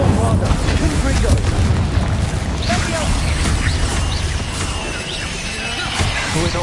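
Bombarda and Confringo spells detonate in Hogwarts Legacy combat, a dense run of booming blasts and crackling bursts that rumble loudly throughout, with speech mixed in.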